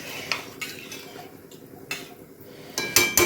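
A metal lid set on a cooking pot in a home kitchen: several sharp clinks and taps of metal on metal, close and crisp, ending in a brighter ringing clatter, no talking.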